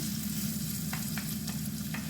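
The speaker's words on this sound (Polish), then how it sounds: "Wszystko jest na masełku smażone." Steady sizzling of food frying in butter in a pan, with a few sharp scraping clicks of a utensil stirring.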